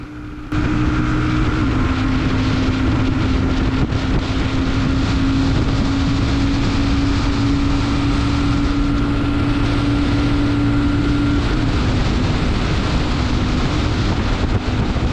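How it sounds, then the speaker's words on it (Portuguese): A Royal Enfield Super Meteor 650 motorcycle accelerating and shifting gears: a loud, steady engine roar with strong wind buffeting, the tone holding high and then dropping slightly near the end, no voices. "vamos acelerando tudo e trocando de marcha"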